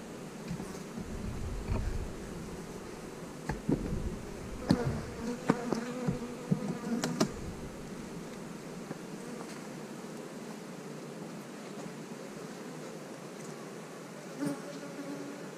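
Honeybees hum softly in a mini mating nuc hive, a faint continuous buzz with a few wooden knocks and handling bumps early on, then quieter droning alone.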